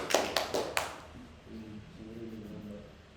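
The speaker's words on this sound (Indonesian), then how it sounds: "Tepuk tangan untuk kalian semua." A handful of sharp hand claps burst out in a micro-teaching classroom lesson, four quick claps within the first second, then fade as a low voice speaks.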